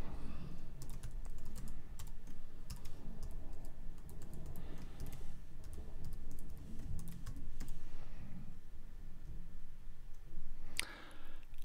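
Computer keyboard typing at a desk while a name is entered for a bounced audio mix: steady, close key clicks running throughout, with a brief sharper click near the end and no talking.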